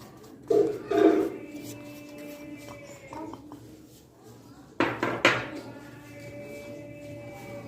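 Icing sugar being worked by hand into cake batter in a bowl, heard as two short bursts of soft knocks and scrapes against the bowl over a steady low hum, with no one speaking.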